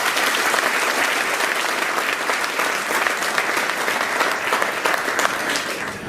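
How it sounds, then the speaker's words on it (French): An audience at a Cocody town-hall event for the Moov Cyberlab launch claps loudly and continuously, a dense steady wash of applause with no pauses. "je vous demande d'applaudir très fort"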